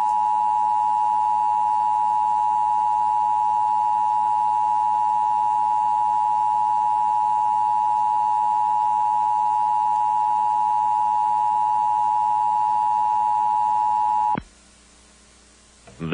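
A steady, loud Emergency Broadcast System test attention tone holds for about fourteen seconds and then cuts off abruptly, leaving a brief noisier tail.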